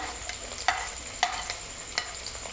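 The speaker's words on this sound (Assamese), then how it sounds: "এয়া চাওক এতিয়া মই নহৰু দিছোঁ" Garlic frying with onions in oil makes a soft, steady sizzle, broken by three bright clinks of a utensil against the pan spaced about half a second apart.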